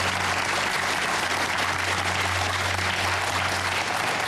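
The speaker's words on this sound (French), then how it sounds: "Je voudrais qu'on vous applaudisse très fort, madame" A studio audience applauds a woman guest on a French TV programme, a continuous wash of clapping at moderate level over a low steady hum, with no talk.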